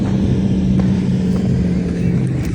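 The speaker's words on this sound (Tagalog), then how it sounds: "May naririnig ako mga motorsiklo siguro." Steady, loud engine drone with a low hum runs throughout, resembling motorcycles riding across the desert near Sharjah, UAE, with no clear pass-by and no speech.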